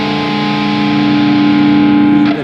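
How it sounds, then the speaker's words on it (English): A tritone interval held on a heavily distorted electric guitar rings as one loud, steady, buzzing chord for about two seconds before cutting off abruptly. "the tritone. It's neither one thing nor the other, and that's why it sounds so ugly"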